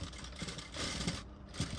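Sewing machine stitching a katori blouse, a steady mechanical whir that runs in short bursts with brief pauses, close and moderately quiet.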